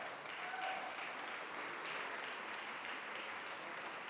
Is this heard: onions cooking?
no